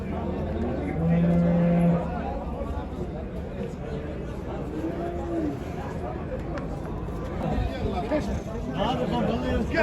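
Cattle moo loudly a couple of times amid a busy din at the Çubuk livestock market in Turkey, with crowd chatter and voices carrying throughout.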